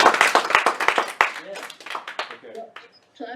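An audience clapping in a small crowd, quick scattered claps over about a second and a half, fading into cheers and voices.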